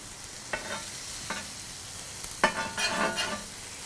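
Butter added to a hot frying pan beside a cooking burger, crackling in a few short sizzling bursts over a soft steady background hiss, close and fairly quiet.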